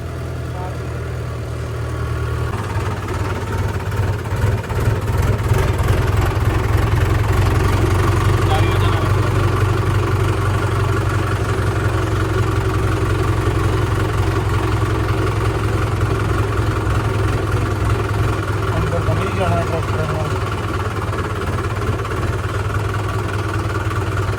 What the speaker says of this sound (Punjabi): ਸ਼ੈੱਡ ਥੱਲੇ ਆ ਗਿਆ ਟਰੈਕਟਰ